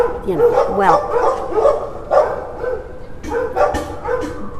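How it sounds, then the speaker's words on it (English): Dogs bark repeatedly in a loose, uneven series of sharp woofs and yips, fairly loud and close, with a brief whimper mixed in. "That's what those dogs barking are, and they are not on cue."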